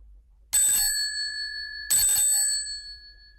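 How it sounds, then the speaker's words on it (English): A doorbell rings twice, two bright metallic bell-like bursts with ringing tones about a second and a half apart, loud and close against a silent room. "Then suddenly she ran across the road and rang Holmes's doorbell."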